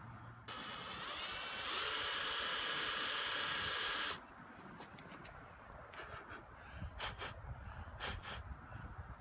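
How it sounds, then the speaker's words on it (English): A power drill whines steadily at high speed to bore out a stuck screw during a boat dorade replacement, then stops, leaving a few short bursts and quiet handling noise. "if I can get some of that screw drilled out, I'm hoping it will little other shavings will break loose"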